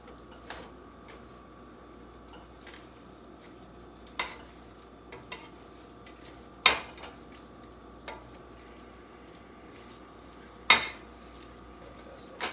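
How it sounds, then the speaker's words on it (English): Ground meat for chili browns in a pot under a quiet sizzle. Sharp metallic clinks from a spoon stirring against the pot come at irregular moments. "I want to make sure my meat is brown enough first before I start doing all that"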